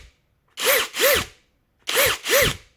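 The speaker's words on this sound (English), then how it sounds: "A longer press of the trigger activates a longer retraction of the jaws." Bosch GRG 18V 16 C cordless rivet gun retracting its jaws: four short, close motor whirs arrive in two quick pairs with a pause between the pairs, loud and with no voices.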